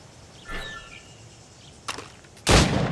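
Gunshots fired at targets in the video game Assassin's Creed Rogue: a soft shot with a whistling ring, a sharper crack near the two-second mark, then a loud close blast whose tail carries to the end.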